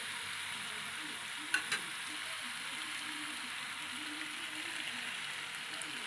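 Young jackfruit and potato chunks frying in spice paste give off a soft, steady sizzle, quiet and close, with a couple of brief clinks of a utensil partway through.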